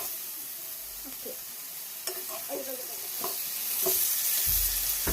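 Coconut oil fries in a pan for fish curry, a soft continuous sizzle with scattered stirring clicks and scrapes, the hiss swelling louder toward the end.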